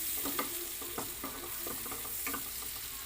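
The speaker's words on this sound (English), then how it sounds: "Now we have to dump our butter." Butter sizzles in a heated pan for a Filipino fish sisig, a soft, steady frying hiss with light crackles and a few small spatters, close but quiet.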